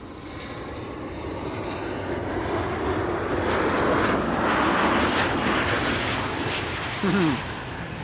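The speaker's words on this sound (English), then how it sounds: "this is KLM flight 1364, arriving from Budapest" KLM flight 1364 from Budapest arriving at Amsterdam Schiphol Airport: a loud, broad jet airliner roar that swells as the plane passes closest, then holds and slowly eases, heard outdoors with no talking.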